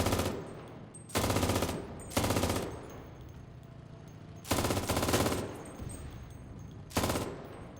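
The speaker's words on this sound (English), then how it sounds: "these machine guns have got unlimited ammunition" Machine-gun fire in the Enlisted war game, a weapon with unlimited ammunition, rattles out in loud, sustained bursts of about a second each, six bursts separated by short pauses, over a dim background of distant battle noise.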